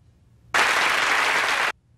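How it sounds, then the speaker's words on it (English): A loud, dense burst of applause starts abruptly and holds steady for about a second before cutting off just as sharply, with quiet before and after. "I'll give them another quick applause for that"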